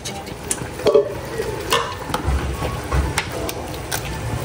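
A spoon stirs mung bean stew with moringa leaves in a pot, scraping and knocking in irregular strokes over a soft bubbling simmer, close and clear, no talking.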